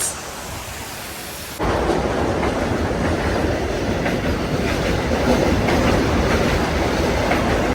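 A train rumbles past at close range on a railway bridge near Khopoli, a loud steady roar with rhythmic clatter of wheels on track that builds after a sudden start.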